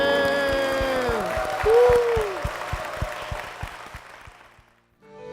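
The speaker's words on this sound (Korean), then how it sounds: "주님께 영광의 박수를 드리겠습니다." Applause from a church congregation, rhythmic clapping that rises and then fades away beneath lingering sustained tones, with a few voices audible before it dies out near the end.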